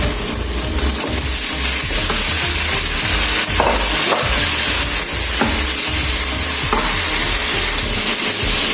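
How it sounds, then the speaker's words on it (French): Tomatoes go into a pan with tomato paste for a beef tripe stew and sizzle loudly, a dense continuous frying hiss with occasional stirring knocks, close up and without talk. "Et ensuite, donc, je verse les tomates."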